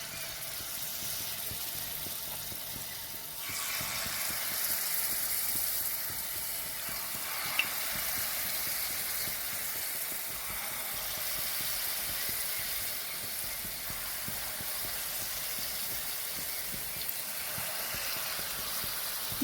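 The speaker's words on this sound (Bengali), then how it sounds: "বড়াগুলো আমি লো টু মিডিয়াম আছে ভালোভাবে উল্টে পাল্টে লাল লাল করে ভেজে নেব।" Palm fritters (taler bora) fry in oil over low to medium heat, making a continuous close sizzle and bubbling hiss with occasional soft clicks from turning, steady throughout and with no speech.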